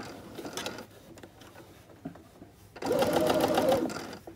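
Close-up sewing machine stitching fabric for a scrunchie, a rapid mechanical whirr in two bursts, a shorter one first and a longer, louder run after a pause filled with faint handling noises.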